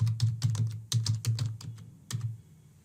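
Quick bursts of keystrokes on a computer keyboard as a password is entered, close and crisp, a dozen or so taps in an uneven rhythm ending with a final pair of presses.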